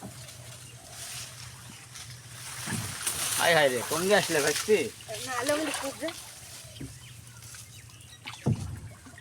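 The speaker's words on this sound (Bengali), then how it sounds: "ভাইস্তি খুব দক্ষতার সাথে নৌকা চালাইছে" A wooden boat being rowed on a river in the afternoon, with soft paddle strokes and water sloshing under close voices calling out and talking.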